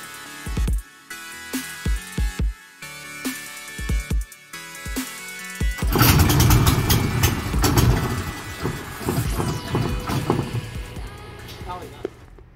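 A Predator 224 engine drives a longtail mud motor fitted with a clutch. A few short, sputtering bursts give way to a loud, sustained engine roar that rises and falls with the throttle.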